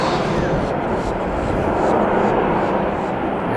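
A jet airliner passing at an airport, a loud, broad roar of engine noise that swells slightly in the middle, heard close and alone.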